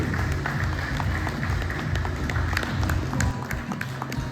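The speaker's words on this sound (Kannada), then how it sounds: "ಚಪ್ಪಾಳೆ ಬರಲಿ ಮತ್ತೊಮ್ಮೆ ಏರ್ ಸ್ಟೀಲ್ಸ್ ನ ಮಾಲೀಕರಿಗೆ" Applause at a company prize ceremony held by JSW Steel and a steel dealer for a Royal Enfield winner, a dense, steady patter of clapping from a crowd that holds at a moderate level throughout.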